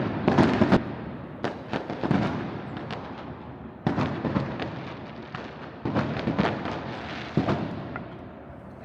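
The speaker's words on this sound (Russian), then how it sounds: "Я вижу этот фейерверк днем." Daytime fireworks go off near a football stadium in Buenos Aires on match day, a rapid run of loud cracks and booms coming in repeated bursts of several bangs each, with no voices.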